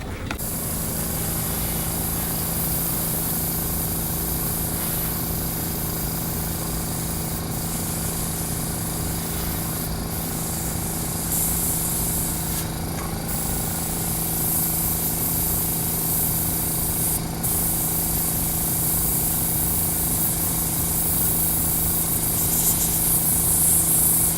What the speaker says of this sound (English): We'll be doing a makeup airbrush stencil on Kayla Manzalillo.